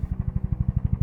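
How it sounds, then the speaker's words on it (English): Rhythmic low thumping of a UH-1H Huey helicopter's rotor blades, a steady rapid chop of about ten beats per second, fairly close and moderately loud with no voices. "it's the sound of the UH-1H Huey"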